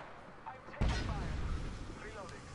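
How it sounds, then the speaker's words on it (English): Gunfire in Apex Legends, a sharp heavy shot followed by rumbling reverberation and lighter echoing pops, with a voice talking quietly underneath. "Shooting at her."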